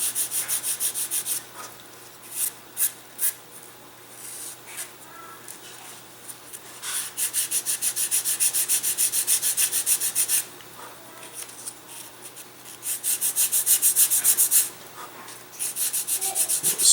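Sandpaper rubs back and forth on a wooden pylon taper for a chuck glider, rasping strokes in short bursts, then longer steady passes, close and alone without talk.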